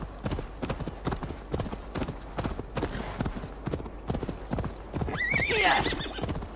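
Horse in the game Assassin's Creed Valhalla trots up with a steady clip-clop of hooves, then gives a loud, bright whinny near the end, with no speech over it.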